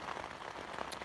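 Steady rain patters on a tent overhead, a dense, even hiss of drops without any voices, at a hunting camp in Alaska.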